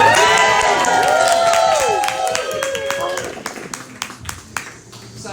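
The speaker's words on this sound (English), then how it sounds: "So I'll just give a quick round of applause for Teresa right here" A round of applause and cheering for Teresa at an NFT art exhibition of female photographers in Chicago, clapping and shouts mixed with an electronic squeal that fades, then scattered claps tapering off.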